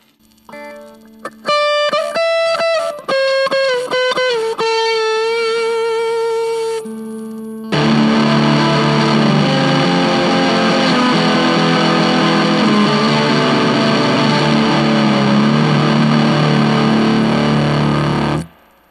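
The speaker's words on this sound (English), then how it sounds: "Let's try turning the fuzz all the way up." An electric guitar plays through a Sun Face clone fuzz pedal with the fuzz turned all the way up, first in loud sustained distorted notes and then in a dense, saturated wall of fuzz with a constant hiss underneath, close and alone.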